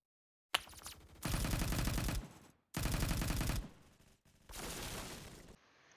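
Bursts of automatic gunfire from the Phantom Forces video game come in three sustained volleys separated by short pauses, loud and close, with sharp onsets and no talk.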